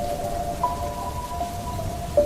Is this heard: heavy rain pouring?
yes